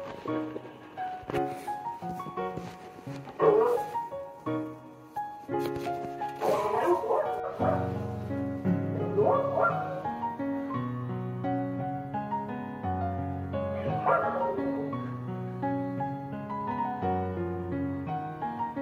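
A small dog gives a series of short yips and barks, then whimpers and whines in drawn-out tones, heard close up.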